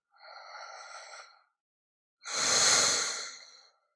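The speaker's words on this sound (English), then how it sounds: "I like to take just a nice deep breath after that." Two slow, deep breaths during a relaxation exercise: a soft airy inhale followed, after a short pause, by a louder, fuller exhale, close and alone.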